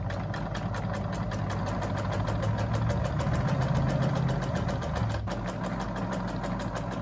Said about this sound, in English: We're gonna just do a straight stitch to attach these with the good sides together